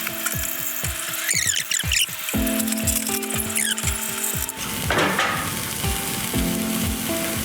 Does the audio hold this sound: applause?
no